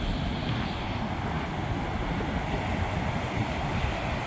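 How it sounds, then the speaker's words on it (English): Gullfoss waterfall in Iceland roars as a constant, broad rushing wash of falling water, steady and loud with no pauses. "Look how amazing this waterfall is."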